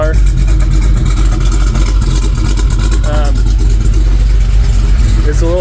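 The LS3 V8 in a Land Rover Defender 110 runs steadily with a loud, deep idle rumble, while someone talks over it throughout.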